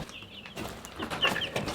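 Young chickens clucking softly in a pasture coop on wheels, a scatter of short chirpy calls at moderate distance over a faint outdoor hiss.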